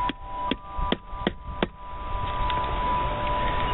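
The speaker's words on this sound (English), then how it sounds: "Hold your flaring tool in place and give it a couple of little whacks," Hammer striking a metal flaring tool to set a snap on a leather knife sheath: five light, evenly spaced taps over steady background hum, then only the hum.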